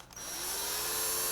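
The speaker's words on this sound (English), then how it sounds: "just slowly start drilling away" A power drill bores a hole in plastic, starting with a short rise and settling into a loud, steady high-pitched whine that keeps going to the end, close up and with no talking over it.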